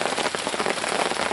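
Steady rain falls on a riverside hunting campsite, a dense, continuous patter of drops hitting surfaces nearby, fairly loud and unbroken, with no voices.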